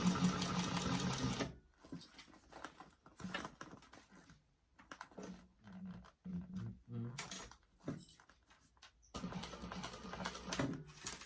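A sewing machine stitches a bag seam in loud, rapid mechanical bursts at the start and end, with quieter stop-start stitching and handling noises in between.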